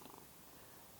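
A cat named Big Cat purrs softly and steadily up close, a faint continuous low rumble with no talking.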